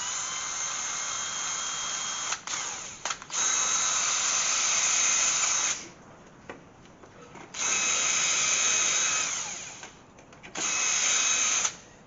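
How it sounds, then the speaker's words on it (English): A power drill whines loudly in several long bursts separated by short pauses while drilling through a car wing, close and high-pitched, with brief quieter gaps between runs. "You can also get a bigger drill and just go through it with a bigger drill"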